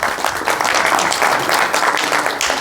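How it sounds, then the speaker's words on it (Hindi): A crowd at a village honouring ceremony in Haryana applauds with dense, steady clapping from many hands, sustained for a couple of seconds at fairly close range. "ऐसे दानी कर्मी गांव की भी एक बार तालियां बजाकर स्वागत"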